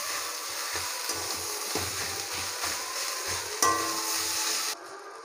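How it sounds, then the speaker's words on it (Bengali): A spatula mashes and stirs potatoes with onion in a hot pan, with a steady sizzle under rhythmic soft scraping thumps that stop near the end. "তো আলুটাকে আমি ম্যাশ করে নেব খুন্তি দিয়ে নাড়াতে নাড়াতে।"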